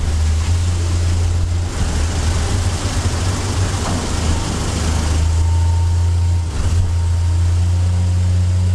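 A 1951 Hudson Hornet race car driving on a wet track, its loud steady engine drone heard close up with a constant hiss of spray, no talking.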